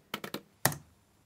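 Fingers tap a password on a computer keyboard: three quick keystrokes, a short pause, then one firmer final press, close and clear in a quiet room.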